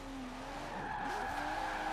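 Tires squeal and skid as a Nissan Skyline R34 drifts in the racing game Forza Horizon 4, a steady engine drone under a continuous screech, fairly faint.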